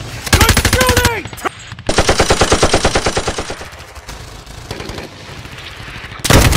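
Rapid machine-gun bursts in a plastic toy army men battle, loud and close, in long rhythmic strings of shots with a brief pause, fading into rumbling background fire before a final burst.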